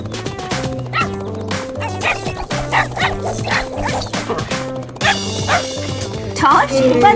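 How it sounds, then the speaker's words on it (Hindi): A cartoon dog barks, yips and whimpers in quick bursts over bright, musical tones, with a voice talking through it. "बदमाश कुत्ता।"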